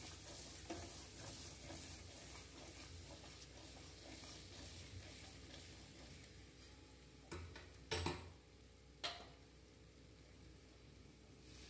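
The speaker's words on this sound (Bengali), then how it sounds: "আলু মশলা একসঙ্গে কষিয়ে নিচ্ছি।" Fried potatoes and spices being stir-fried together in a pan for a vegetarian curry, with a faint steady sizzle and a few louder scraping stirs near the end.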